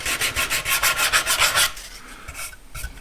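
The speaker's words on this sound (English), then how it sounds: "while I'm doing my edge sanding and sanding the roundovers" Hand sanding along the edges and roundovers of a walnut charcuterie board, a rhythmic series of quick rasping strokes that stops partway, leaving faint scuffs and light rubbing.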